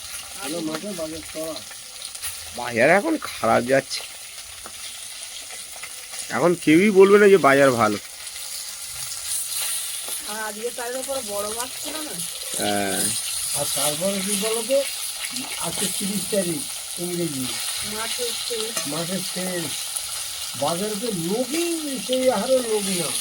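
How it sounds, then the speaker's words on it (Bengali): Fish frying in a pan gives a continuous sizzle beneath the whole stretch, while a person talks loudly over it in bursts. "মাছগুলো ভাজা হয়ে গেছে তুলে দেবো"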